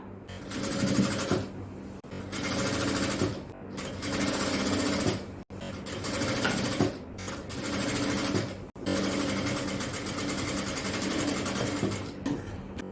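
Sewing machine stitching a sleeve onto an extra-large jalabiya at the shoulder line, running in several steady bursts of close, busy whirring broken by brief pauses, with no talk over it.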